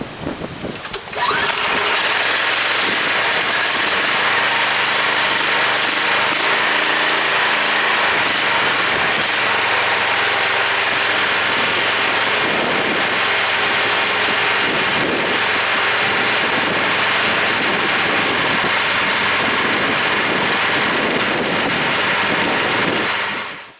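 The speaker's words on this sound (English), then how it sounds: "this engine out of the box started on the first pull." The gasoline engine of a VEVOR 4400 PSI, 4 GPM pressure washer runs loud and steady for more than twenty seconds, a close, rough, continuous roar with a buzzy pulse.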